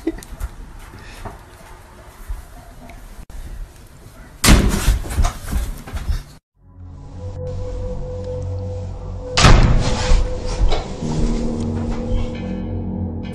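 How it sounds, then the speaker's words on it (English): An indoor bedroom door drifts shut slowly and then slams closed on its own, giving loud sharp bangs between stretches of quieter room sound. "The door all of a sudden closes on its own. It starts off slow, then quickly shuts itself."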